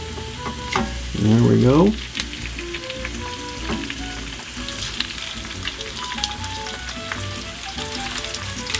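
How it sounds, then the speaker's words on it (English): Eggs frying in a touch of oil in small pans, with ham and hash browns nearby, give a steady crackling sizzle throughout; a brief loud burst comes early, and someone speaks a few words quietly. "We're going to put just a touch of oil in each one of these. There we go. Now we're going to put 1 egg in each."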